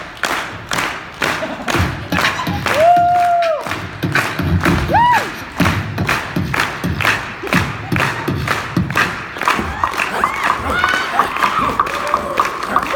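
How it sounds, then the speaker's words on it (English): A steady electronic drum beat from a handheld drum machine fills a noisy convention panel room, regular thumping hits under crowd noise, shouts and cheering from the audience. "Oh, I'll get you drums, my friend, on this fancy dancy future box."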